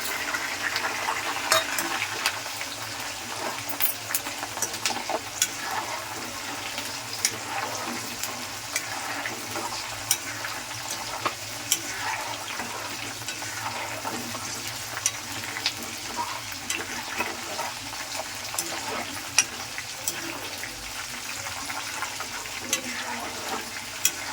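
Curry leaves and dried red chillies fry in hot oil for a coriander chutney, giving a continuous close sizzle and crackle with scattered sharp pops and stirring scrapes.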